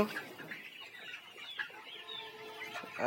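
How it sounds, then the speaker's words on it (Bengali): A hen clucking and squawking while being caught, faint and scattered calls at moderate distance with rustling, in a quiet rural setting. "মুরগি ধরতেছে ধরো ধরো ধরো"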